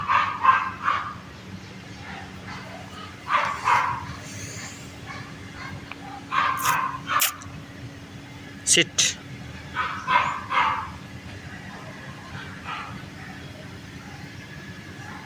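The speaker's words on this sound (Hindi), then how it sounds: "बिल्ली के पीछे भौंक रहे थे दोनों।" Two dogs bark while chasing a cat, giving repeated bursts of yapping barks in short clusters spread across the stretch, fairly near. A person briefly speaks a command between barks.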